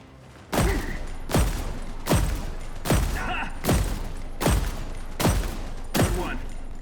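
Gunfire in The Expanse: Osiris Reborn: eight sharp, evenly spaced loud blasts roughly a second apart, each with a booming tail, and faint in-game radio chatter between shots.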